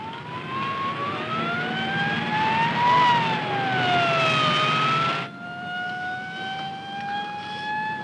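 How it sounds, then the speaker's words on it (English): A wailing police car siren rises and falls continuously over a rumbling vehicle, loud and close, shifting pitch abruptly partway through, in a 1954 film. "Ned, I always wanted to be in a racing police car with a siren screaming."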